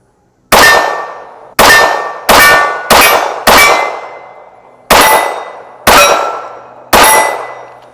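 Eight sharp metallic clangs from Walther PK380 pistol rounds striking steel targets, each a bright ringing hit that decays over about half a second, coming in an irregular run with short gaps, loud and close, with no talk.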